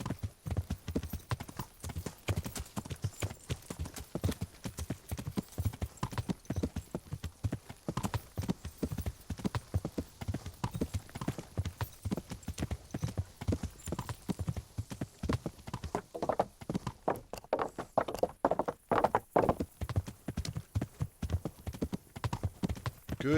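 Steady clip-clop of a ridden horse's hooves in Kingdom Come: Deliverance, a close, continuous rhythmic trot lasting throughout with little else heard.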